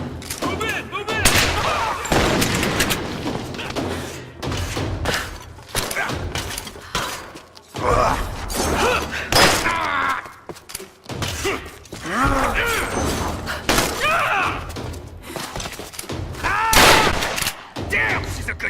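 Video game gunfire in Tomb Raider 2013: dense bursts of rapid shots, heavy thuds and mechanical clatter in a hectic combat scene, with voices shouting now and then over the shooting.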